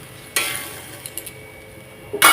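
Water poured into a pan of spiced taro and mung dal frying until red, giving a loud burst of sizzle and splash, then a few light clinks, and a second hissing surge at the end.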